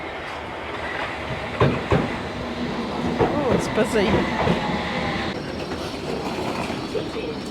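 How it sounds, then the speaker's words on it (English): A train rumbles into a station with rhythmic clattering and screeching wheels, amid busy platform noise; a person briefly speaks over it. "Here comes the train."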